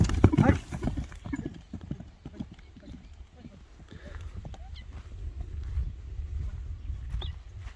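A horse moving at a traditional horseback game in Kyrgyzstan, hooves clip-clopping in an irregular stream with some thuds, heard under people talking and the murmur of a crowd.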